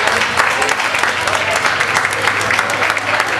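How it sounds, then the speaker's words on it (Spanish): Loud applause sweeps through the audience at an outdoor tamale fair in Ciudad Madero, dense continuous clapping close and full for several seconds, with crowd noise mixed underneath. "fuerte el aplauso."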